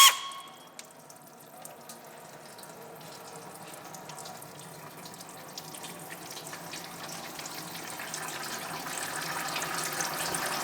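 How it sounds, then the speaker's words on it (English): Transmission fluid drains from a Buick LeSabre's 440-T4/4T60 automatic transmission pan into a 5-gallon bucket, making a steady hissing pour that runs unbroken and slowly builds a little louder. "everything's going to drain into a 5-gallon bucket here"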